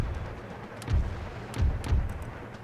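Mortar artillery in the Empire: Total War battle game fires in a few deep booming thuds, about three over a couple of seconds, over a rumbling battlefield background.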